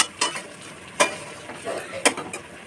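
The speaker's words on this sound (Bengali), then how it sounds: "ঢাকনা খুলে একটু বাদে বাদে আমি মাছটা কষিয়ে নিচ্ছি, নয়তো মশলা কড়াইয়ের নিচে লেগে যাবে।" A spatula scrapes and stirs Bengali shankar fish curry in a kadai while it fries. Four distinct scraping strokes come at uneven intervals over a soft, steady sizzle.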